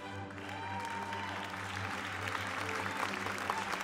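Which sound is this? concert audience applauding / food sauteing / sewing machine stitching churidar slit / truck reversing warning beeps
concert audience applauding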